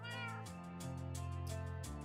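A cat meows loudly and repeatedly, three or four bright, insistent cries in quick succession over a constant background hum.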